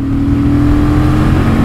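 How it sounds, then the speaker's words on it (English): A 2023 Honda Transalp XL750 motorcycle pulls through the revs on a highway in fourth gear, its engine a loud, close, steady drone with a rising tone and constant rumble. "you can see as she goes through the revs, pulling nicely, linear."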